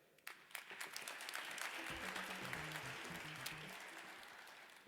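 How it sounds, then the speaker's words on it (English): An audience at a FinTech startup demo day breaks into a round of applause that swells quickly and holds as steady, fairly distant clapping for several seconds. "It's not often governments get a big round of applause."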